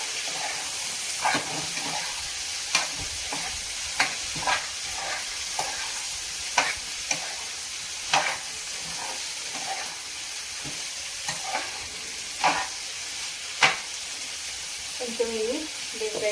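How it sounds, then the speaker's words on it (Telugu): Broad beans (chikkudukaya) deep frying in a pan, a steady close sizzle with intermittent stirring clinks and scrapes throughout. "కొంచెం ఇవి డీప్ ఫ్రై కావాలి"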